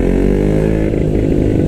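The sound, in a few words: KTM Duke 125 motorcycle engine with Scorpion exhaust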